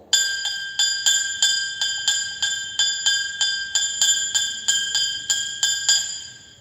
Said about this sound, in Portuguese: esse mesmo sino pequeno em um repique rápido